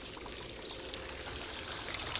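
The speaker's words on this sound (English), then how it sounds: "The water acts like the weight on the church clock, pushing the escapement wheel round." Water runs steadily through a water clock driving its escapement wheel, a soft, continuous trickling and pouring with a few faint ticks, quiet and close.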